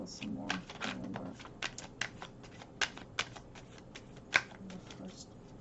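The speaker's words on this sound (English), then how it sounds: "I'm going to shuffle some more" Tarot cards being shuffled by hand, a fast run of crisp riffling flicks and slaps with a few sharper snaps, close and moderately quiet over a faint low background.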